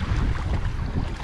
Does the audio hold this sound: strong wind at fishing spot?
yes